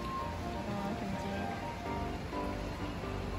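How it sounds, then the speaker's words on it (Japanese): Steady rain falls outdoors at Sounzan in Hakone, a soft, even hiss with no breaks and no voices. "雨です。"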